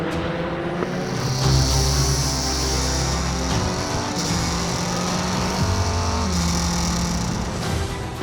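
A Praga Cup race car drives on a circuit, its engine a steady loud roar that holds for the whole stretch, with pitch shifting slightly as it changes gear, and no voices.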